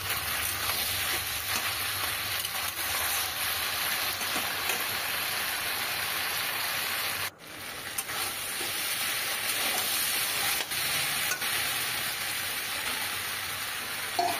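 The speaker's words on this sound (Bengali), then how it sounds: "তারপরে যে ইলিশ মাছের মাথাগুলো দিয়ে দিচ্ছি।" Hilsa fish heads sizzle steadily in a hot pan of oil for a Bengali pui shak chorchori, a dense continuous frying hiss that stays loud and even throughout, with one brief dip midway.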